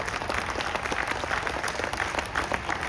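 Audience applause at an evening address during the Sanatan Ektaa Yatra, a steady wash of many hands clapping at moderate distance, continuous and fairly even throughout.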